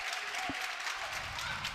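Clapping at a high school girls' basketball tournament game, with scattered claps from the bench area over the distant murmur of a gym crowd, fairly faint and continuous.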